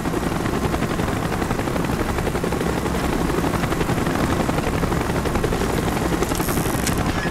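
Helicopter rotor roar mixed with bursts of automatic gunfire in the Call of Duty Black Ops single-player campaign, a dense, loud and continuous wall of battle noise with no talking.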